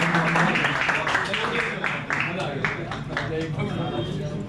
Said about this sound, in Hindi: और पहले इनके लिए तालियां तो दे यार।